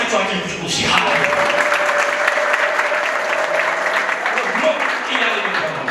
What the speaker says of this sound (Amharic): እስቲ ለራሳቸው አጨብጭቡ